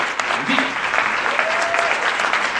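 A beachside audience claps steadily in encouragement, dense and close applause with faint voices mixed in.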